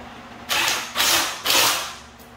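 A handheld multi-socket tool is tightened in three quick ratcheting strokes, each a loud, close, raspy clicking burst separated by short pauses, with no speech.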